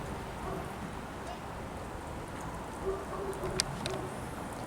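Rain from an arriving storm falls as a steady, even hiss of drops throughout, with a few faint chirps rising briefly above it near the end.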